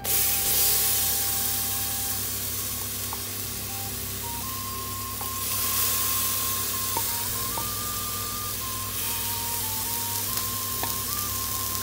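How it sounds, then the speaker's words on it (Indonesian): Spice paste for Sate Padang hits a hot pan with a loud, continuous sizzle and spray of steam, steady throughout with a faint tone running beneath. "Ini kita masukkan bumbu."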